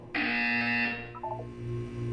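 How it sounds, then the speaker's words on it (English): A loud electronic buzzer in the video game Portal 2 blares for about a second, followed by a short descending electronic tone sequence over steady game ambience. "When you hear the buzzer, look down at the floor"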